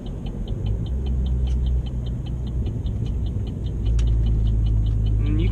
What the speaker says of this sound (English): you can get some really good pops in with this car too